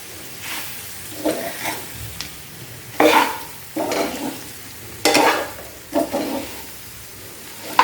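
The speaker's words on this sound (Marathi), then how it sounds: "अगदी मीडियम टू लो गॅसवरती आपण ही फ्राय करणार आहोत." Sliced okra frying over medium-low heat in an uncovered pan while being stirred, giving a soft continuous sizzle broken by repeated scraping strokes of the spoon at roughly one-second intervals.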